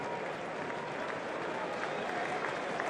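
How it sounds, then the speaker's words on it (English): A rugby crowd at Gloucester versus Northampton in the Gallagher Premiership applauds a hat-trick scorer, producing sustained dense clapping and crowd noise from a large stadium audience that holds at an even level throughout. "let's sit back and listen to the applause for the hat-trick man, Jack Cotgreve."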